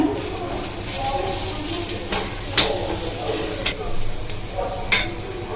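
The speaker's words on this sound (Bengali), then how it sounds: "দেখুন কত সুন্দর ভাজা হচ্ছে" A chicken paratha sizzles in a hot pan with a constant crackling hiss. Sharp scraping clicks from a spatula cut through at intervals, and a voice speaks over it.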